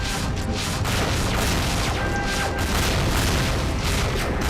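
Swarm missiles explode in the space game World Destroyers, a dense, continuous barrage of overlapping booms and crashes that stays loud and heavy throughout, with no talking.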